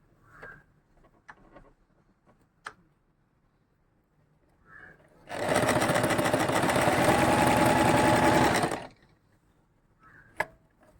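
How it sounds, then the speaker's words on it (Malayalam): A household sewing machine runs a normal stitch in one steady, loud burst of about three seconds of fast rhythmic whirring. Quiet clicks and handling noises come before and after it. "ഇതാണ് നോർമൽ സ്റ്റിച്ച്"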